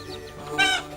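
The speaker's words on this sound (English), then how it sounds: "Keeping the chickens in a new cage." Chickens being settled into a new cage in a Meghalaya village give a short burst of clucking, one louder squawking call rising over softer background fowl sounds, close by.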